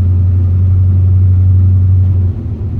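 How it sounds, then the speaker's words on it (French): A 1970 Chevrolet C10 pickup driving along, its engine giving a loud, steady low rumble from inside the cab that eases slightly near the end, with no talking. "Nous voilà en route avec le pick-up."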